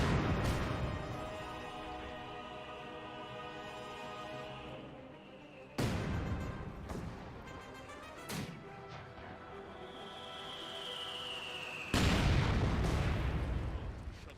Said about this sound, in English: We do now have what sounds like a mortar barrage over here.